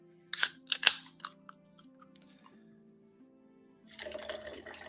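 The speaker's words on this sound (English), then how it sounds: "Pour myself some carbonated water." Carbonated water pours into a glass, with a few sharp clinks and splashes at the start, then a steady fizzing hiss near the end, all close by over quiet background music.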